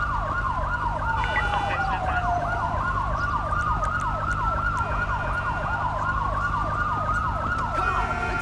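Ambulance siren in GTA V with LSPDFR, wailing in rapid repeating sweeps close by and loud throughout, over a steady low engine and traffic rumble, with no talk.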